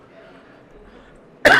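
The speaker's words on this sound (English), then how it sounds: "Sorry about my cough." A single sharp cough bursts out at the very end, close and loud, after a quiet stretch of faint background murmur at a table tennis championship venue.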